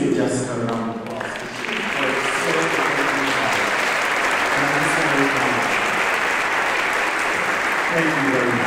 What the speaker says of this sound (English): But can we please give Jessica a round of applause?